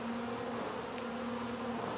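Honeybees hum steadily from an opened hive, a close, continuous drone with one sustained tone running through it, no voices.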